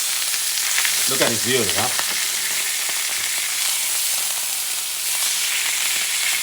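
A bison steak sizzles steadily in a hot pan just after being flipped, a dense continuous frying hiss running the whole time, with a short bit of talk near the start.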